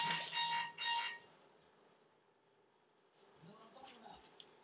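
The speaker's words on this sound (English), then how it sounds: "And there goes the alarm." An indoor alarm goes off with two short, bright electronic beeps, fairly near, followed by faint rustling and small handling noises.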